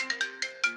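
A phone ringtone chiming in quick bright tonal bursts, four notes in under a second, fairly faint and heard alone.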